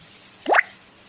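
A single soft wet plop as tomato drops into a pan while making crab rasam, short and fairly close, with quiet background around it.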